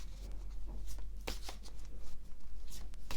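Tarot cards shuffled and drawn by hand, a series of close, crisp riffling and flicking bursts against a quiet room.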